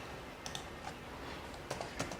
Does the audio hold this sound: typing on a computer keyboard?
yes